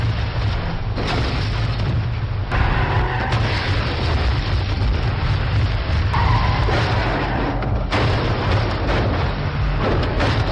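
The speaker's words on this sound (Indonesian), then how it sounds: "orang-orang yang mengejar Romeo langsung menabrak dan menembak mobil Romeo" An action film car chase, with cars crashing, shots fired at a car and a tire being hit, heard as a dense, loud, continuous mix of booms, skids and impacts layered over a rumbling soundtrack.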